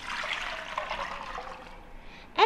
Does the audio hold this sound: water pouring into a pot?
yes